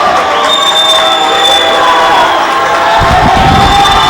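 Crowd cheering and shouting at a high school basketball game between SPHS and Marian Catholic, a steady roar of voices with whoops, swelling louder near the end with some bouncing and footfalls.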